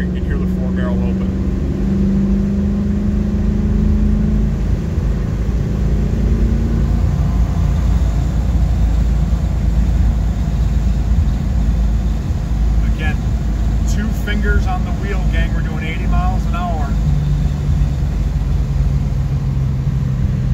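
A 1969 Ford Mustang Mach 1 with a four-barrel carburetor accelerates under easing throttle, its loud, steady engine rumble filling the cabin, with a voice briefly heard over it.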